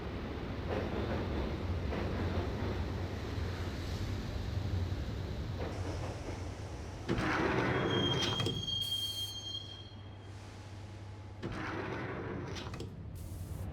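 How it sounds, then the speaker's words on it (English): Subway train ride in the Max Payne video game, a low rumbling rail drone with rattling carriage noise, a sharp metallic wheel squeal in the middle and a brief quieter lull before the rumble resumes. "the train doors had already shut behind me, and I was in for the ride"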